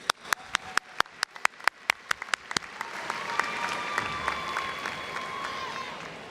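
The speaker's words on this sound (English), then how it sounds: "Let's give her another round of applause" At a 2018 college graduation ceremony, a few sharp, evenly spaced handclaps ring out in a large hall before the wider audience joins in a softer, sustained round of applause.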